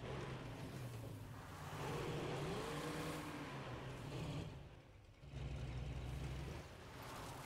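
A battered car drives in State of Decay 2, its engine a quiet steady drone that rises in pitch midway, dips briefly, then settles back.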